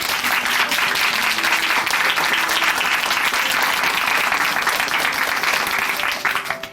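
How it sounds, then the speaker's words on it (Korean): Sustained applause from a church congregation at Chuncheon Hanmaeum Church, dense steady clapping that fills the space for several seconds before tapering off at the end, with faint voices mixed in. "우리 다시 한번 신정호 형제님께 응원의 박수 보내드리겠습니다"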